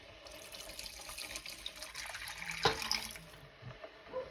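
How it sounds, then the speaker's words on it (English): Water poured into a cooking pot of pre-cooked marinated chicken curry, a steady splashing pour with a sharper slosh partway through, close and alone. "we're going to add a little bit of water."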